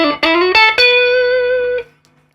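A single sustained electric guitar note rings out through an amp with a completely dry signal, no reverb, after two quick picked attacks, loud and close, then cuts off abruptly into silence.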